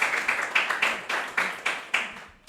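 Classmates in a university lecture room clapping for a student presenter, a sparse, fairly quiet patter of separate claps in an uneven rhythm that thins out toward the end.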